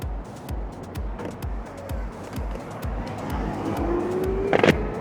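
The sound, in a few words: Blue Shark R1K electric scooter accelerating in turbo mode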